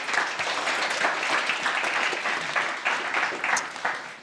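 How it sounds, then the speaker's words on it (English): A conference audience at a Swedish mining event breaks into dense, continuous applause, many hands clapping together at a steady moderate level for several seconds. "a big applause to all of you"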